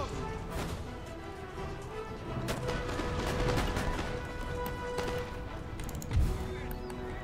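Scattered fusilier musket volleys in the video game Empire: Total War crackle through a dense battle din, sharp broadband reports rising above a steady roar, with one heavier thump near the end.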